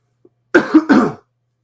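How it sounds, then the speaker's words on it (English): A single close, rough cough in two quick bursts, preceded by a tiny click, then silence. "I cough quite a bit in this so far"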